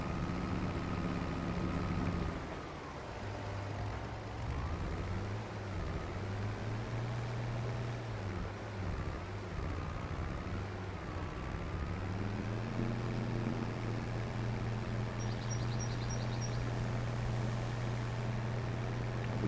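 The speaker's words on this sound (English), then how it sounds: "Ford 1156 is just rumbling. Very good at sound effects with the tractor." In the Farming Simulator 25 video game, a simulated Ford 1156 tractor engine rumbles steadily with a deep, continuous drone whose pitch dips and rises as the revs change, with a few faint electronic beeps near the end.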